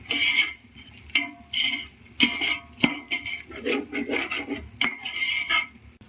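A spoon scrapes and stirs turmeric and chili powder in a pot of Hyderabadi dum biryani with mutton. Close rasping strokes come in uneven bursts with brief pauses, and no one speaks.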